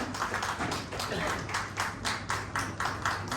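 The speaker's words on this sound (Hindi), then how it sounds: "एक बार प्लीज तालियों के साथ ही हम उन्हें सम्मानित करना चाहेंगे।" Audience applause at an international awards and convocation ceremony in Indore, honouring a social welfare category recipient: steady, rhythmic clapping from a crowd in a hall, moderately distant and fairly soft.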